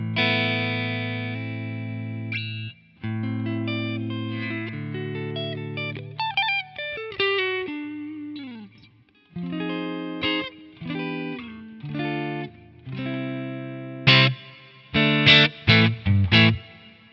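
Clean electric guitar through a Quad Cortex clean amp preset with reverb plays a melodic phrase of single notes and chords, with reverb tails ringing after each note, ending in a few sharp strummed hits.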